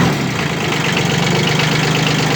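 A Kubota B1502 Japanese mini tractor with a tiller attachment idles steadily after starting, its diesel engine giving a loud, continuous, close-up knocking rumble throughout.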